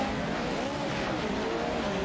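Short course race trucks in an eShort Course World Cup racing video game, engines droning steadily with faint tire squeal throughout, dense and continuous with no talk.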